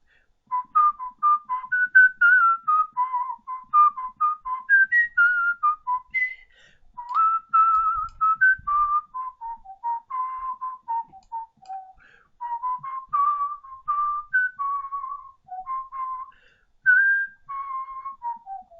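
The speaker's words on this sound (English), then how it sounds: "I'm going to treat you to some whistled jazz" A person whistles a jazz tune solo, a lively melodic line of quick bending notes and short phrases with brief breaths between, close and clear with no talking.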